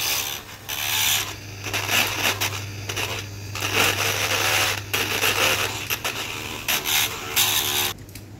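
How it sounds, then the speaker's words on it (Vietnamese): A PVC plastic chest-mounted phone holder has its surface ground flat, giving a steady, loud rasping grind that keeps going for several seconds with short pauses, over a low constant hum. "các bạn mài cái mặt này cho bằng"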